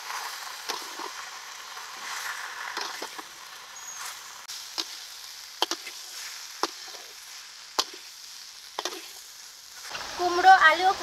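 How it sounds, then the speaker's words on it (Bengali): Pumpkin, potato and Malabar spinach fry in a pan, giving a gentle continuous sizzle broken by intermittent clicks and scrapes of a spatula, with a louder burst of crackling toward the end; no talk. "এখন পুঁই শাকের পাতাটা দিয়ে দেবো। এখন আবারও কিছুক্ষণ ভেজে নেব।"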